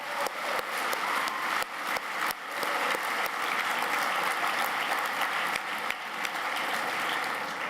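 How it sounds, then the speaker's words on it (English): Audience applause at an LGBT center award event, close, crisp clapping from many hands, sustained and dense with a few sharp individual claps standing out. "So a round of applause,"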